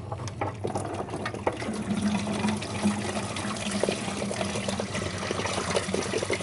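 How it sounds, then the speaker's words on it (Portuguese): Coolant water drains out of a car radiator hose, a continuous trickling, gurgling flow of liquid that holds steady for several seconds, close and moderately loud, with no voices. "Aqui, Bianca, mostra para a gente ver a cor da água que vai sair."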